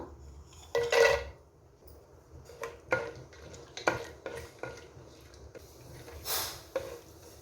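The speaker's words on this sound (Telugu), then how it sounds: "జీడిపప్పు కూడా వేసుకుందాం." Cashew nuts land in a hot pan for tomato rice, making soft clatters and stirring scrapes against the metal with a faint sizzle, a few sharper knocks and quiet handling sounds throughout.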